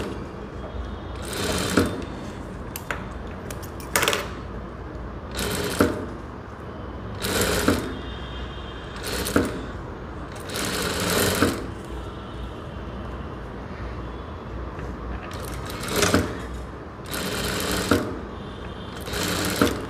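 Blouse stitching on a sewing machine comes through as short, separate bursts of whirring over a constant low room hum. Each burst is moderately loud, and pauses of varying length fall between them.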